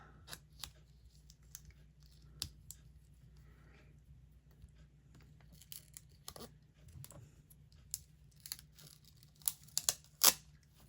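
Scissors snip through fabric while a Christmas hand towel is trimmed for a craft fair gift set, giving a few faint, scattered cuts and rustles that grow sharper and louder toward the end, with no talk.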